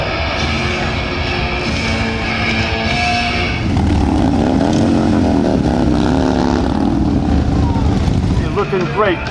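A LiveWire electric motorcycle rides past at a motorcycle week rally, its loud whine rising and swelling from midway, with crowd noise and voices around it.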